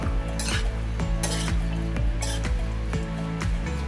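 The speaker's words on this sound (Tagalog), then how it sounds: "so haluin lang natin ng maigi" Tofu sisig stirred in a sizzling pan, with a steady hiss of frying and rhythmic scraping strokes of a utensil against the pan roughly every half second, close and loud.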